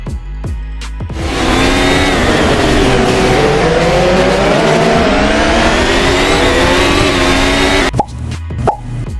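Racing cars from the mobile racing game ALAMOBILEGP roar in a sustained, loud engine drone that holds steady for about seven seconds, framed by brief clicks and taps at the start and end.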